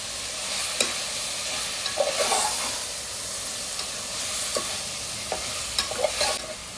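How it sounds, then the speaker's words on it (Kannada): Prawns sizzling in a pan for biryani while being stirred, with a steady close hiss of frying broken by repeated scrapes and clinks of the spoon, no voices. "ಫ್ರೈ ಮಾಡ್ಕೊಳ್ಳು"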